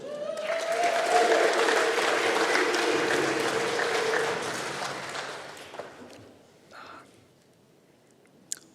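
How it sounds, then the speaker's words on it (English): An audience applauds a Young Pasifika Male of Influence award recipient, loud sustained clapping with a voice droning through it, fading out after about five seconds to near quiet with a couple of soft knocks. "A round of applause."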